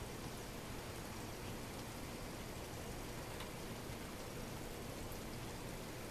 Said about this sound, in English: And I'm just going to pour that tea